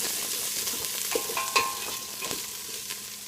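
Bear meat sizzling and browning in a pan, a dense steady crackle of frying with a few sharper pops and scraping stirs close by.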